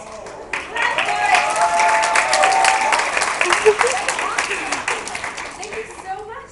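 An audience clapping, a broad burst of applause building quickly and holding steady before thinning out, with a voice speaking over it.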